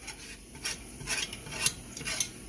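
A spoon stirs roux in a large pan, making soft repeated scraping and light sizzling strokes at close range, with faint clinks of the utensil against the metal and no one talking.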